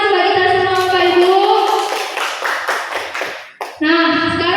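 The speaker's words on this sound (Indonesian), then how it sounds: "tepuk tangan bagi kita semua Bapak Ibu." A group at a teacher training session claps briefly in scattered taps, mixed in with and partly covered by people speaking nearby.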